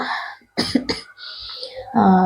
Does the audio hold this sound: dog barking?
no